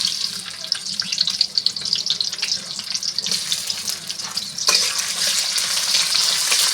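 Chopped onion and bay leaf frying in oil in a wok, a continuous close bright hiss and crackle of sizzling, growing slightly louder toward the end, with no talk.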